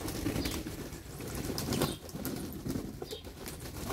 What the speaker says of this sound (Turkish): güvercinlerin en çok ihtiyacı olan şeylerden biri de banyo